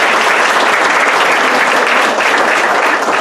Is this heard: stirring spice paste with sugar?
no